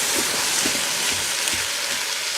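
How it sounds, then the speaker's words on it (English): Stew meat browns in a pan, giving a loud, steady hiss and crackle of sizzling fat with faint stirring bumps underneath, and no one speaks. "Got some browning on this stew meat."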